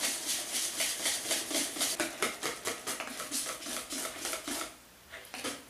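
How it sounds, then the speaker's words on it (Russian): Kaiserschmarrn batter is whisked with milk in a bowl until smooth, producing a quick rhythmic run of soft scraping and clinking strokes close up, slowing and pausing near the end. "Теперь все это просто перемешать, чтобы не было комков."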